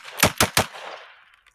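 Gunfire in a quick-draw film duel: three sharp, loud reports in fast succession, each tailing into a fading echo that dies away to near silence.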